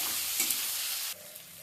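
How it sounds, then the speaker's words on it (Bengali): Ginger-garlic paste and onion fry in a pan with a loud, steady sizzle, which drops abruptly to a quieter crackle partway through, as when a small tomato is added. "এখানটা ভালো মতন আদা রসুনটা পেঁয়াজের সঙ্গে ভাজা হয়ে গেছে"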